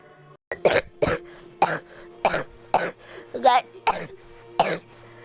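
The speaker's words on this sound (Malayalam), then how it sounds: "ചുമന്നു" A string of about eight short coughs or throat-clearing bursts, close and fairly regular, each a sharp hacking pulse separated by brief pauses.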